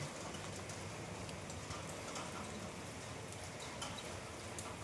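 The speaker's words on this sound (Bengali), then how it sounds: "এই দেখো বাইরে পুরো বৃষ্টি হচ্ছে" Rain falls steadily outside, heard as a faint, dense wash of patter and rumble, distant and unbroken with no talk.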